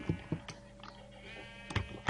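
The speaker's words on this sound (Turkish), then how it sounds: "Ve hazır madem koyun da var." Sheep in the Minecraft video game bleat in short, close, repeated calls, several quick bursts at the start and end with a quieter stretch between.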